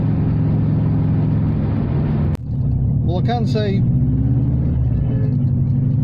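A Subaru Impreza Turbo drives with a steady low engine rumble and road noise throughout, a sharp click partway, while someone talks over it.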